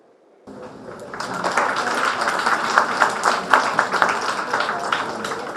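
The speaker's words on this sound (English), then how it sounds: "I think these claps were not enough." Seminar audience at an officers training academy career event bursts into applause that starts abruptly and holds steady, a dense wash of many hands clapping at fairly close range.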